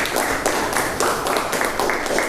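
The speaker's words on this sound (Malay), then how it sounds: "Okey, tepuk tangan untuk diri sendiri." Form 4 science students in a classroom clap for themselves, a short, loud, close burst of applause whose dense patter comes in uneven surges for about two seconds.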